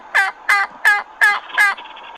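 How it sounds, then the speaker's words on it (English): A wild turkey tom gobbles five times in quick succession, loud and close, each rattling call lasting about a quarter second, then a short trailing note at the end. "he gobbled back at me"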